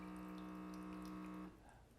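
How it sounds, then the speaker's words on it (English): A Baby Brezza Formula Pro Advanced dispenses water with a steady pump-like hum that cuts off abruptly after about a second and a half, leaving quieter trickling. "So I'm going to hit water only, and it's going to dispense that 8 ounces."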